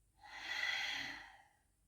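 A single strong forced exhalation through the nose during a yoga Kapalabhati breathing exercise, a broad breathy rush that swells and fades over about a second, close and alone.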